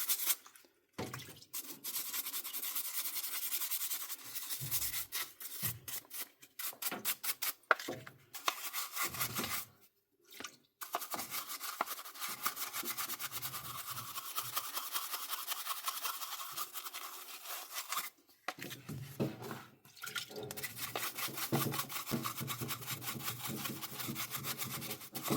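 A wet brush scrubs an old Makita drill part in quick back-and-forth strokes, close and raspy, broken by short pauses between bursts of scrubbing across the whole stretch.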